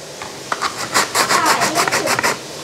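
Onion rubbed against a kitchen grater on a board, making a close run of rhythmic rasping strokes, about a dozen scrapes in quick succession with no talking.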